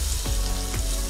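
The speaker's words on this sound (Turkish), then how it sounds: "Şöyle bir cızırdatacak onu." A toast sandwich sizzles in oil on a hot griddle, a loud, steady crackling fry with two brief bursts of stirring or pressing, close up and without talk.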